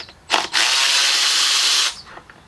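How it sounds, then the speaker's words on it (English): A power driver spins out 8mm intake manifold bolts on the 3.6L Pentastar engine of a 2018 Jeep Grand Cherokee, one loud close whirring burst of about one and a half seconds after a brief blip, no talking. "I'm going to start removing all of the bolts that are holding down the intake manifold"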